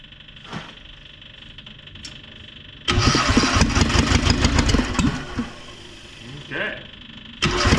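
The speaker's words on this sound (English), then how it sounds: "Let's give it a little bit of glow plug and see if she fires up." A worn tracked dumper's diesel engine cranks and catches, going from glow-plug quiet into a loud, rough, clattering run. The engine dips, then surges again, and a voice talks briefly before the start.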